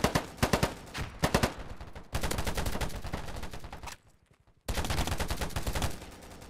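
Rapid automatic gunfire from the first-person shooter Polygon, loud and close, with quick bursts giving way to sustained volleys, a short near-silent pause, then another long stretch of firing.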